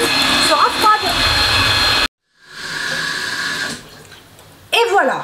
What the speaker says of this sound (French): il ne nous reste plus qu'à battre jusqu'à total refroidissement